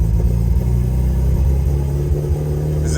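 A 1976 MGB with a carburetor needing adjustment drives along, its engine giving a loud, steady low rumble close by, with no talking.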